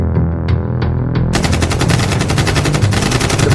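Rapid bursts of automatic gunfire crackle loudly and continuously after a few faint sharp pops, over a low rumbling background.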